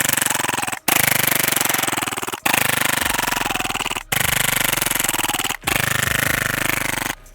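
A Tandemkross Cthulhu green gas airsoft pistol fires in long rapid bursts, a loud, close, dense mechanical rattle broken by brief pauses between strings of shots.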